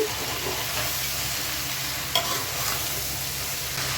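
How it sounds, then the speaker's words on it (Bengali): Cauliflower and potatoes fry in a pan with a constant close sizzle, a spatula stirring them with soft scrapes and one sharper knock against the pan midway. "দেখো বন্ধুরা, আবার এটা একটু ভালো করে নেড়ে নিচ্ছি।"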